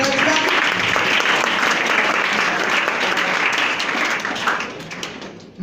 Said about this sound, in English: Give a big applause to Prajwal